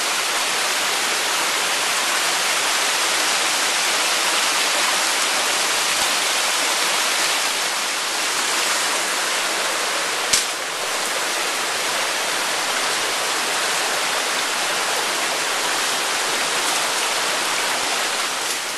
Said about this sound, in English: we got cascading series of little falls coming down here